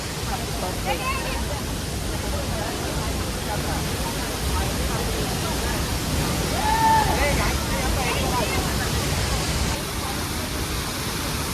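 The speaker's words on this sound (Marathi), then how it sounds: "एकदम छोटासा धबधबा येऊ हो. त्याचं पाणी बरोबर इथं खाली पडाले" A small waterfall at Nitwade pours water down onto the spot below in a dense, steady roar, with faint voices of people nearby mixed into the rush.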